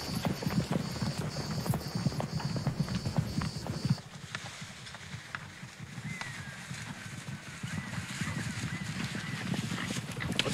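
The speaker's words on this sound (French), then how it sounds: "Votre cheval est très bien, je vous félicite." A horse walks with steady clip-clopping hooves, fairly close, under a background of outdoor ambience.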